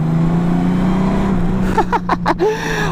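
Honda Goldwing Tour DCT 2019 motorcycle engine droning steadily up close, its low hum rising and falling slightly as the throttle is blipped, with a few brief revving surges near the end.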